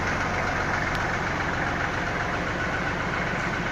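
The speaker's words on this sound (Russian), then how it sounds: "По работе двигателя, двигатель трехцилиндровый." The three-cylinder engine of a Kubota GL29 mini tractor with a front loader runs steadily at idle, an even, close, throbbing diesel chug with no talk over it.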